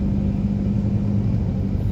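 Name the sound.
road traffic in Manila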